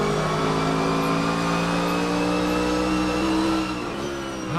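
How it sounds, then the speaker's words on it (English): Onboard a race car during a lap, the engine drones loudly and steadily at high revs, then drops off near the end as the driver lifts for braking. "So we're just turning it up, have a listen to this, on board with Corbin Sprague"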